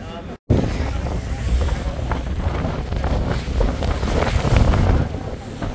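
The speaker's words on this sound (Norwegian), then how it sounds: "i dag det er vel aldri vært så mye vind når vi har kjørt før" Strong wind buffets the microphone on a boat trip, with loud roaring gusts, rushing water and engine noise, and a voice speaking partly under it.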